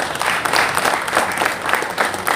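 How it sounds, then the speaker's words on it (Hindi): Loud applause from a crowd at the outdoor naming ceremony for Dr. B.R. Ambedkar Way at 6101 Broadway in Woodside, New York, a dense burst of many hands clapping continuously. "जोरदार तालियां।"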